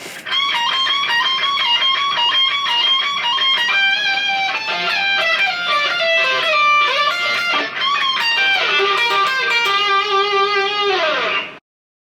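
An electric guitar plays a solo, a continuous run of bright sustained and bending lead notes with heavy vibrato, loud and alone for about eleven seconds before stopping abruptly.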